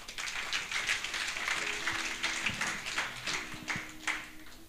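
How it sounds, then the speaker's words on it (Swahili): A church congregation claps together in praise during a worship service, a quiet, brief burst of scattered and rhythmic hand claps heard at a distance. "Mpatieni Bwana sadaka ya makofi mazuri"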